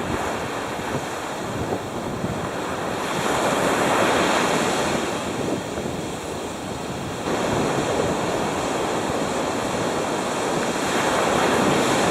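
Ocean surf washes steadily onto a deserted California beach, a continuous broad roar of breaking waves mixed with wind buffeting the microphone, with no voices.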